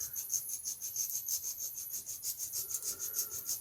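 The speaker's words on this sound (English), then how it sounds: "So we're going to start sanding on the post itself." Fine sandpaper rubs back and forth on the post of a small T-Jet model buggy body, a close, quiet, rhythmic scratching of short even strokes at a steady pace.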